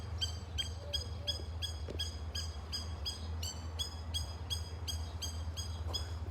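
A mother bird near her tiny chicks outdoors keeps up a rapid, regular series of high chirping calls, heard clearly over a low rumbling background.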